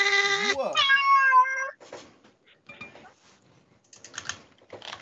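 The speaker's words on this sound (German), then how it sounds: "Hier sind aber auch wieder Katzen hier" A cat meows loudly and close by with a long, drawn-out wavering call, followed by quieter scattered clicks and rustles.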